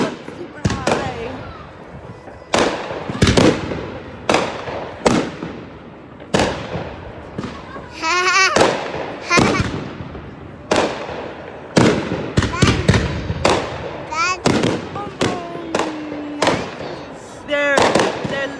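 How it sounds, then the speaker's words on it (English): New Year's Eve fireworks bursting overhead in St. Albans, Vermont, with loud repeated booms and crackles, some whistling rockets, and excited voices talking between the blasts. "They're fireworks."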